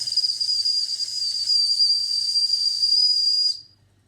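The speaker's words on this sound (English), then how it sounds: "Let's blow the whistle." The whistle on a D100E model steam engine kit with a generator blows one steady, shrill, hissing tone for about three and a half seconds and then cuts off abruptly, with a low hum underneath.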